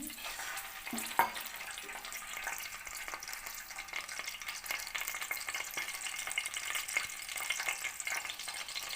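Eggs fry in a pan for egg biryani, giving a soft, continuous sizzle with scattered spatters and one sharper clatter near the start, quiet and steady without speech.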